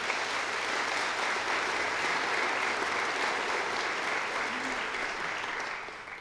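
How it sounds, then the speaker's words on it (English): Congregation at a worship service applauding high school graduates, a steady, dense wash of clapping lasting several seconds before tapering off. "Let's give them a round of applause."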